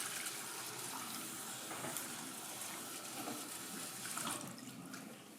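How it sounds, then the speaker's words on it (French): Running water from a tap rinses a denture inside and out until no foam is left, a steady, soft continuous splash throughout without pause. "on rince jusqu'à ce qu'il n'y ait pas de mousse, intérieure et extérieure"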